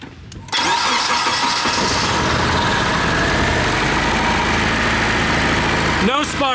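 An engine in a Honda-powered drift car cranks loudly and steadily for about six seconds after a brief quiet start, with a voice briefly speaking at the end.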